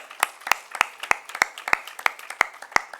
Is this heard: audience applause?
yes